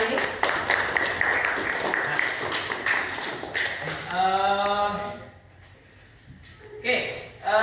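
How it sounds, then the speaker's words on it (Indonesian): Participants at the end of a classroom training session on positive school culture clap hands briskly for a few seconds, then voices talk over fading, scattered claps. "Boleh tepuk tangan dulu untuk hari ini."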